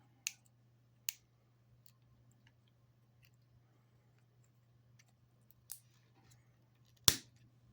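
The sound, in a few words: cutting resin HO scale parts off support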